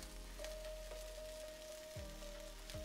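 Salmon fries in a pan on low heat, giving a soft, steady sizzle with light crackles and a few faint clinks, no voices over it.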